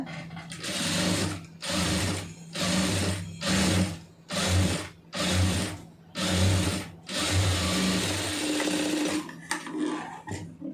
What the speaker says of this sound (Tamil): அப்படியே திருப்பி விட்டு ஒரு தையல் அதிலே போட்டுருங்க